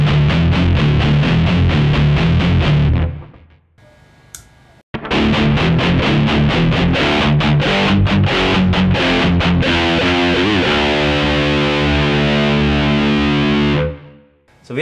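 Electric guitar through a modified BOSS MD-2 Mega Distortion pedal plays loud, heavily distorted chords and riffs, breaks off briefly into near silence, then returns with chugging palm-muted patterns and ringing sustained notes.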